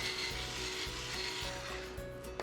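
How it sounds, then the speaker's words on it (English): Soft sizzling and crackling of kale with salt and black pepper in a hot pan, a steady faint hiss with a few small pops, no talking. "You can hear it sizzle immediately"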